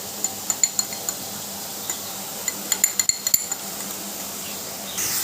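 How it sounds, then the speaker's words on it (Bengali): A spoon clinks and taps against a bowl while mixing salted ingredients into a batter for a boal fish curry. The sharp, irregular clicks come close together over a quiet background, and nobody speaks. "এভাবে সমস্ত কিছু মিশিয়ে একটা ব্যাটার বানিয়ে নেব।"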